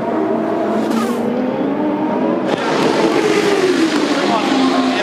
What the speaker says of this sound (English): Bourdais does victory donuts down at the Lexmark chicane